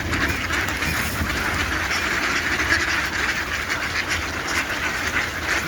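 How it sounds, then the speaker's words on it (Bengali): A flock of ducks gathers around a person, giving a dense, steady chorus of quacking that runs without pause over a constant background wash. "দেখো আস্তে আস্তে সব হাঁসের আমাকে ঘিরে ধরছে"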